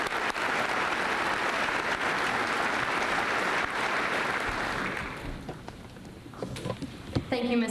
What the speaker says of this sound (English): We could all give them one more round of applause.